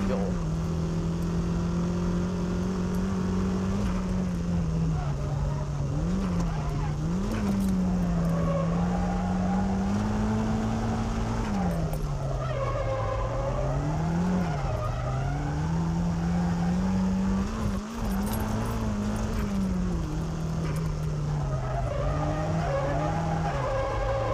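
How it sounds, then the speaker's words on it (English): A drifting car slides through a hairpin curve on the Maze circuit, its engine droning loud and close while tire squeal rises and wavers continuously over the whole stretch. "I'd like to demonstrate the different drifting procedures with different cars."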